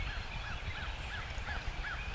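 A wild turkey gobbles faintly in the distance from a field on Arkansas public land, a series of evenly spaced calls carried over a low, steady outdoor rumble.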